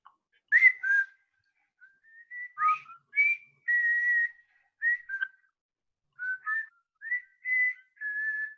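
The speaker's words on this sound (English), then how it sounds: "Bender starts to whistle a marching tune." A lone person whistles a marching tune in a quiet school library, clear and fairly close, in short melodic phrases separated by brief pauses, with no talking.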